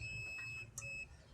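A continuity tester's thin, steady electronic buzzer tone sounds continuously while testing a rice cooker with no power, over low background hum, with a brief click partway through.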